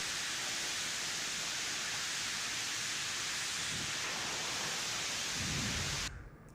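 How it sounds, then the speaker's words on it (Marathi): A dense, constant roar of heavy pre-monsoon rain with strong wind and low thunder rumbling underneath, cutting off abruptly near the end. "वादळी वाऱ्यासह मान्सूनपूर्व पावसाची जोरदार हजेरी लागली आहे"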